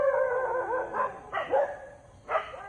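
Dogs bark in a village area of Shirgal-Dhargal, Pedne, where a leopard was spotted: three loud, sharp barks spaced across a few seconds, fairly close, with no talk over them.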